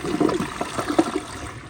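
A 2008 Jacuzzi Espree toilet flushes up close, a short burst of rushing, gurgling water in quick pulses.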